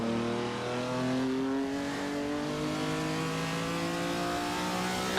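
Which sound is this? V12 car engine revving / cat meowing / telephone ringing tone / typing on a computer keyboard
V12 car engine revving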